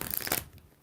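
Tarot cards are shuffled once in a quick, papery riffle that lasts under a second, close and clear, then fades to quiet.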